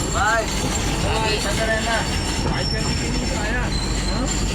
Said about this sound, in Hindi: ये देखिए राउरकेला अभी ट्रेन अभी पहुंची है।